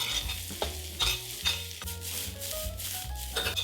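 Mixed mushrooms stir-fry with garlic in a wok that has just been used for beef fillet. A continuous sizzle runs underneath, broken by rhythmic spatula scrapes and stirring knocks against the pan.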